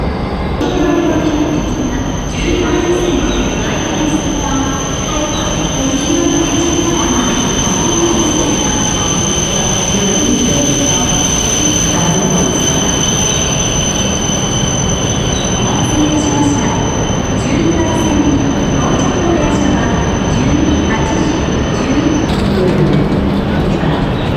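A Japanese train rolls steadily along the rails with a loud, continuous rumble, rhythmic wheel clatter and a high squealing whine throughout.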